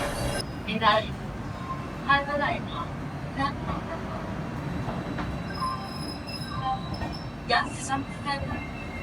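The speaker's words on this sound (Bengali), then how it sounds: "আস্তে আস্তে স্পিড বাড়ছে ট্রেনের" A train pulls out of an Indian station and gradually gains speed, with a low continuous rumble, rhythmic wheel clatter and occasional squeals, while people talk nearby.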